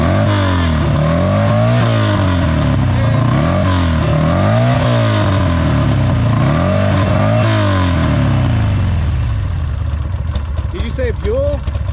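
A Buell motorcycle engine at a biker camp-out revs loud and close in repeated rising-and-falling surges, several throttle blips in a row before easing back toward idle near the end.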